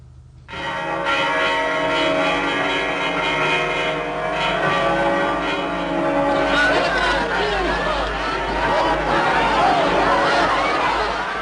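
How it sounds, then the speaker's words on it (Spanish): Church bells pealing at the end of the Spanish Civil War, a rich sustained clangour of overlapping strokes that fills the clip, with faint crowd murmur underneath. "volvieron a repicar las campanas."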